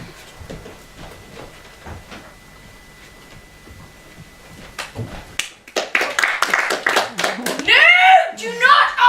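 A teenage class performing The Importance of Being Earnest draws applause from the audience. Spoken lines come first, then clapping breaks out about halfway through and grows loud and dense, with voices talking over it.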